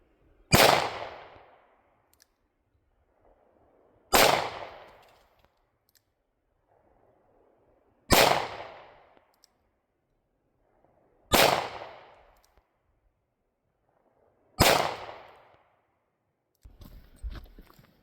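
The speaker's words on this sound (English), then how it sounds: "I'm gonna shoot my last rounds of the 38 special" Five sharp, loud .38 Special revolver shots ring out outdoors at a target, spaced about three to four seconds apart, each followed by a short decaying echo, with faint handling noises between them.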